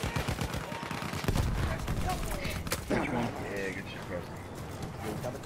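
Machine gun fire rattles in a fast video game firefight, bursts of rapid shots mixed with other game sounds and bird-like chirps, while players talk over the action throughout.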